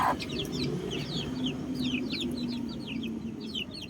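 One-month-old native chicken chicks peep and chirp steadily in quick repeated bursts, fairly faint over a low background hum, with no voices.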